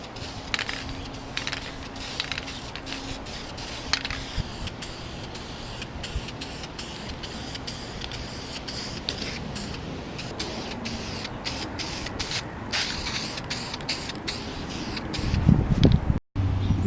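Primer sprays from an aerosol can onto plastic motorcycle fairings during a Ninja restoration, a continuous close hiss broken by short regular pauses between passes, with a clunk near the end.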